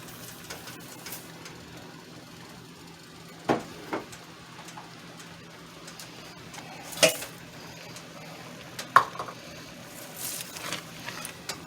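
A spoon stirs herbs into a thick tomato basil spaghetti sauce in a pot, giving scattered soft scrapes and a few sharp clinks of metal against the pot over a quiet background.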